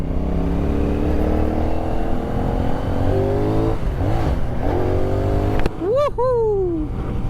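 A CFMOTO 450NK motorcycle engine pulls up through the revs in rising tones, then blips and drops, with a sharp wind burst and a fresh rising rev near the end, heard from on board.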